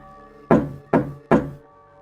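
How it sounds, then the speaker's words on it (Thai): Three sharp, hollow knocks on a wooden coffin in a Thai ghost story, evenly spaced and close, alone over a low background hum. "ได้ยินเสียงเหมือนมีใครมาเคาะโลงศพ"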